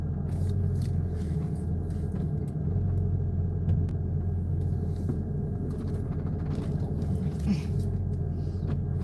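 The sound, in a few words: car driving, engine and road rumble from inside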